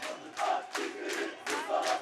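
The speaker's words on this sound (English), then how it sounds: "These Turkish fans are out of control." Rowdy Turkish soccer fans bellow in rhythmic bursts, a loud crowd chant pulsing roughly every three quarters of a second with sharp shouted peaks between the swells.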